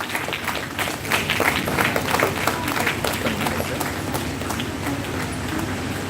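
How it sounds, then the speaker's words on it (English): An audience at a financial-markets conference in India applauds to welcome a guest onto the dais, brisk clapping that swells after the first second and stays strong, with crowd murmur and some speech mixed in. "I take great privilege and proud in inviting our President Narayana Group, CA Puneet sir, to occupy dais with your loud applause."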